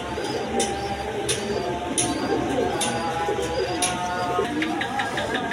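A pair of pigeons coo low and steadily at close range amid a busy background of rustling and intermittent sharp clicks or taps, with no clear speech.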